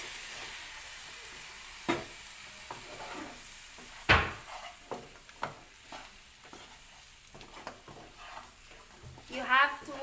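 Pork meat cooking in a pan of peanut butter sauce over a slow flame, a soft sizzle under scattered scraping and stirring knocks, one sharp clang near the middle, with a voice speaking in places.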